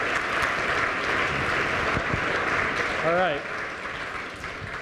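A live audience at a university start-up competition finale applauds a presenting team with steady, dense clapping, loud and close, as someone briefly speaks over it.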